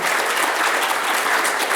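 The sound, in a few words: audience applause for the co-host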